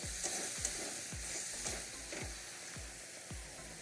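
Small molonti fish frying in hot oil in a pan for a Bengali fish curry, a steady close sizzle broken by regular scraping stirs about every half second, with no voices.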